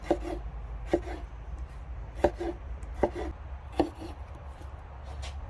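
Knife chopping vegetables on a board, a handful of sharp, irregular cuts over a low steady hum, close and fairly loud, with no talking.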